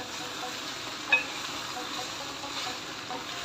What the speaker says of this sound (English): I've added okra in it, and now I'm frying it just for a little while